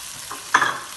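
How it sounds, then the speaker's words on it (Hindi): Tomato puree hits hot oil with chicken in a handi, giving a short close sizzle and stirring burst that fades after a moment. "और अब इसमें हम टमाटो प्यूरी ऐड कर देंगे।"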